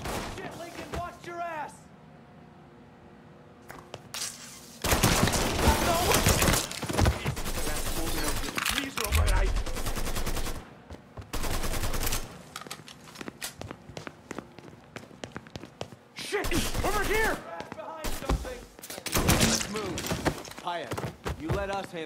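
Gunfire from the Mafia 3 video game, with long bursts of rapid automatic shots and some single cracks separated by short quiet gaps, heard loud and close over footsteps and in-game voices.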